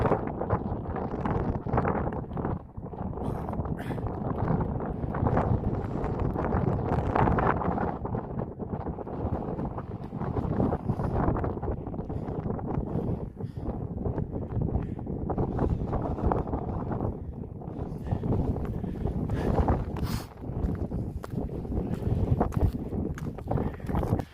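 Strong wind roars across the exposed summit of Helvellyn mountain, buffeting the microphone in a continuous, rumbling gust with no break for the whole stretch.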